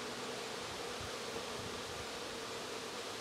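Bees swarm around a plastic-frame hive box during a nucleus colony inspection, a steady, dense buzzing hum that fills the whole stretch without pause, close to the ear and unbroken by any voice.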